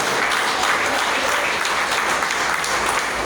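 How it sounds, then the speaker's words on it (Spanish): A church congregation bursts into loud, steady applause, dense clapping sustained evenly for a few seconds with no talking over it. "¿Cuánto da un aplauso a Jesús?"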